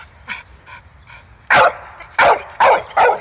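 A Moorish hound barks in a run of four loud, sharp barks close by, preceded by several fainter, softer yips in the background.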